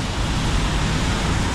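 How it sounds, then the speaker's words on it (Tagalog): Heavy rain pours down in a dense, steady broadband roar during a stormy ride on the Bulacan–Tagaytay loop, with no distinct drops and no breaks. "Ang lakas na naman ng ulan."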